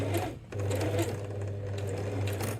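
A sewing machine runs steadily stitching a thick seam through layered fabric for a plant pot holder, with a brief pause near the start before the motor hums on continuously.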